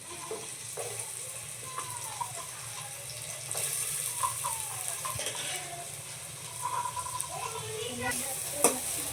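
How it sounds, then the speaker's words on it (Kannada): Carrots and beans frying with tomato in a pan, stirred with a utensil that scrapes and clinks intermittently over a steady close sizzle. "ಈಗ ಚೆನ್ನಾಗಿ ನಾವು ಮಿಕ್ಸ್ ಮಾಡಬೇಕು"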